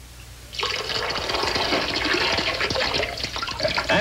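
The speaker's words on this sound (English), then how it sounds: "I'm going to fill this hose." Water gushes steadily as a hose is filled from a tub for siphoning, a loud continuous rushing and bubbling that starts abruptly and runs alone without speech.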